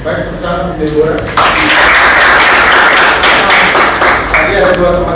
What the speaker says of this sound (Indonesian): tepuk tangan untuk Deborah